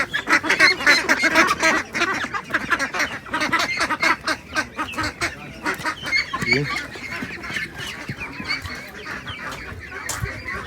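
Dense, continuous gobbling and honking from a crowd of turkeys close by at a poultry market in Wysokie Mazowieckie, with overlapping calls and some faint background voices.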